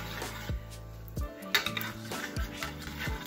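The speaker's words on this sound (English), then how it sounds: "mashing the dal nicely." Metal utensil knocking and scraping inside a pot while cooked dal is mashed, a series of irregular clanks and taps, close and fairly quiet with no talking.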